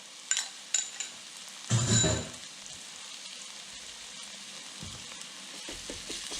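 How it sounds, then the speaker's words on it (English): Garlic hitting a hot pan of already-cooked vegetables for pique a lo macho: a few sharp utensil clinks and a burst of stirring, then a soft, steady sizzle that carries on quietly. "So I'm going to add the garlic."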